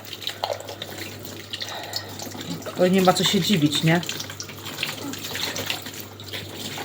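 Water runs steadily from a repaired kitchen faucet at moderate volume, a splashing stream swelling louder midway, while someone talks over it in Polish.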